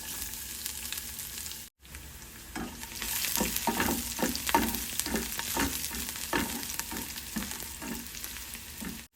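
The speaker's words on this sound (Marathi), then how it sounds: "यात एक चमचा तेल घालूया एक चमचा जिरे एक चमचा मोहरी सात आठ लसणाच्या पाकळ्या" Oil tempering in a pan with cumin, mustard seeds and garlic cloves for a bean-pod bharit: a low frying sizzle with a rapid series of small pops and crackles from the seeds, close up, no speech.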